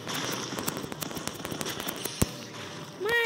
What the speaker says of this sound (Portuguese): Eu já tô mirando aqui um pra eu atirar.